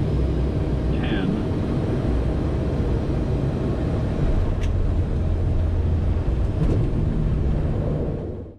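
An ATR 72 turboprop airliner touches down on a runway, producing a loud, steady engine and airflow roar that persists throughout and tails off at the very end, with a couple of faint brief tones above it.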